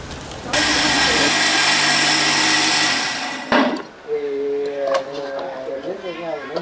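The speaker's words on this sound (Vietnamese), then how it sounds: "Cô xay giềng lẫn gừng luôn cô nhỉ?" A blender grinds galangal and ginger for a village fish-braising kitchen, a loud steady whir that cuts off partway, after which people talk.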